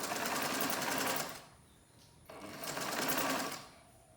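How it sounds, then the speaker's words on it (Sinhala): A sewing machine runs close by, stitching a facing on a sleeveless top with a square armhole. Two sustained bursts of rapid stitching are split by a short quieter pause. "ආයෙමත් මැහුමක් ගහගෙන යනවා"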